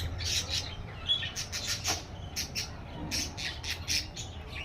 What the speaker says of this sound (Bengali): দেখো পাখিগুলো কি সুন্দর বসে আছে ঝাঁকে ঝাঁকে